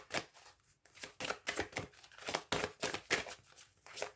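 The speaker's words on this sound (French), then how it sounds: "Allez, j'étale les cartes." Tarot cards are spread across a table in a quick series of soft sliding swishes and light slaps, about a dozen short bursts in an irregular rhythm, close and fairly quiet.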